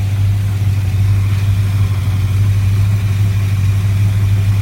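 A 1966 Plymouth engine with a poorly running carburetor idles steadily and loudly at close range, a continuous low rumble with no speech over it.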